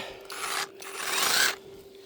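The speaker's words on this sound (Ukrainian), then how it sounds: "Пилка реально е, суперсько ріже" A hand saw rasps through the trunk of a young apricot tree in a garden, two gritty strokes, the second longer and louder, with a short pause between them.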